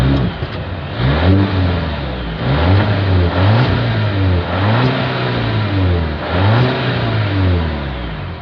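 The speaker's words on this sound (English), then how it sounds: "As always, here is that exhaust clip." Exhaust of a 2025 Volvo V60 Cross Country, heard close as the engine is blipped in four or five distinct revs that rise and fall, with a steady idle between them.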